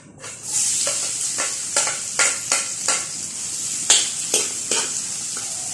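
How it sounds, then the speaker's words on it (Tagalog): Steady loud sizzling of chicken and pork frying in a pan, with repeated scraping strokes of a spatula stirring at a regular pace. "Ayan po ang ating manok at baboy na prito po natin na pwede na po tayong manggisa ngayon."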